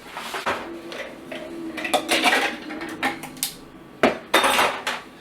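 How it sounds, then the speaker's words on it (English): Ice goes into a gin cocktail made with Beefeater, clattering and clinking against glass or metal in a string of sharp, close knocks and rattles with brief pauses between them. "And then we will add our ice."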